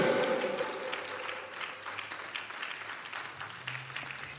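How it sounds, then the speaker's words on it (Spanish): A church congregation claps in a dense, continuous patter of applause that gradually thins out, with faint voices underneath. "Dele un aplauso al Señor."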